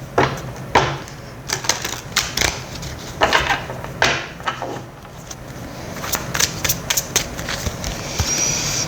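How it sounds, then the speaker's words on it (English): Tarot cards are shuffled close up in quick, irregular bursts of crisp flicks and taps, separated by short pauses. "Lots of shuffling for you today, Virgos."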